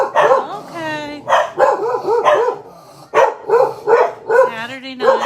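Dogs barking around a residential neighborhood on a Saturday night, a run of repeated sharp barks and yips with a few whining notes, fairly close and loud, in uneven bursts with short pauses.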